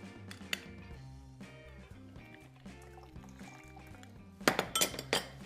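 Lime juice squeezed into a glass for a savory Bloody Mary, small drips and trickles with a cluster of glassy clinks near the end, close and quiet with no talking.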